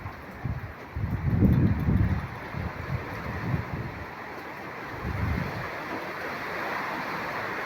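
Gusty wind buffets the microphone in low rumbling bursts over a steady outdoor wash of rain-like hiss.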